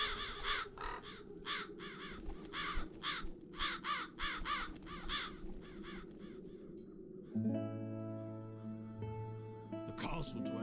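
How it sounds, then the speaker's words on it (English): A flock of crows in the fantasy adventure game The Dark Eye: Chains of Satinav caws in rapid, overlapping bursts, then quiets as sustained game music and a bright chime take over. "That's so many crows."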